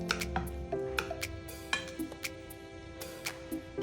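A knife cutting a set vanilla milk pudding into pieces, a series of soft taps and clicks of the blade against the dish at an irregular pace, close and fairly quiet.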